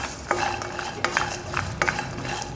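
Cashew nuts are stirred in a hot pan with the stove turned off, giving rhythmic scraping sweeps and rattling knocks of a spoon against the metal and a faint sizzle, with no talk.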